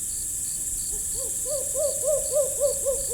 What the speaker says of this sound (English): at one point, we were pretty sure we even heard an owl hooting.